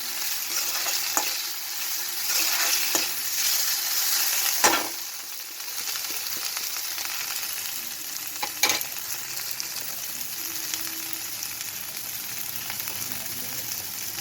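Boiled potatoes frying in a pan of oil while being stirred, with a steady broadband sizzle and a few sharp scraping strokes of the spoon along the pan.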